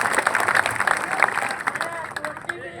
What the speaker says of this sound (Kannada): ಒಂದು ಚಪ್ಪಾಳೆ ತಟ್ಟಿ ಹೇಳ್ಬಿಡ್ರಿ